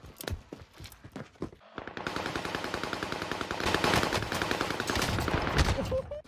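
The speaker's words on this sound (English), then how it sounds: "Heavy fire." Heavy automatic gunfire in Call of Duty Warzone on Rebirth Island: a dense, loud, rapid stream of shots that starts after a few scattered single cracks and keeps hammering without a break.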